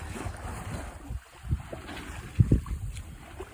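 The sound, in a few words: sailboat sailing at sea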